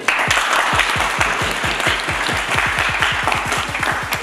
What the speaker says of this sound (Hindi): पहले तालियां बजाएं